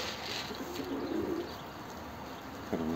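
Pigeon cooing close by, a clear low burbling coo near the middle followed by a shorter one near the end over steady background hiss.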